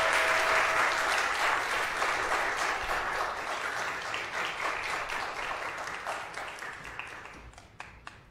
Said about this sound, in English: Can we get another big round of applause, please?